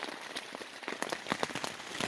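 Steady rain falling during hurricane weather near a trail shelter on the Appalachian Trail at Hot Springs, a dense hiss of drops with sharper scattered spatters, close and moderately loud with no voices.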